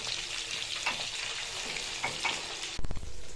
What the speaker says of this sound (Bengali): এক এক করে সবকটা মাছ এখানে আমি দিয়ে দিচ্ছি, দিয়ে মাছগুলোকে ভালো করে ভেজে নিচ্ছি